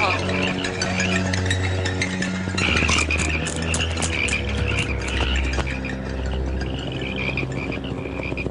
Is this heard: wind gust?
no